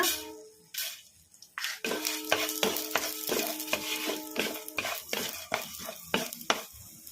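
Coriander seeds hit hot oil in a kadai for onion chutney, setting off close crackling sizzle mixed with repeated metallic spoon scrapes and clinks against the pan, busy and uneven, with no voices.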